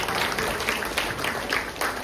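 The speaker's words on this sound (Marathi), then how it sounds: "तुम्ही वेळेवर टाळ्या वाजवल्यात त्याबद्दल आभार" An audience applauding at an abhang music event, a dense steady patter of many hands clapping throughout, moderately loud with a faint voice underneath.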